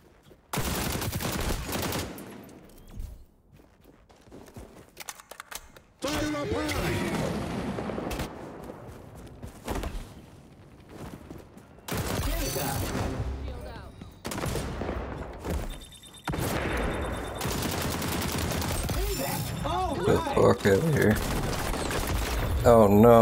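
Shooter game gunfire in rapid crackling volleys and sustained automatic bursts, broken by short pauses, with a voice talking at times among the shots.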